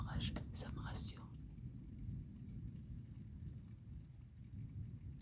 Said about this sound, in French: j'adore le bruit de l'orage, ça me rassure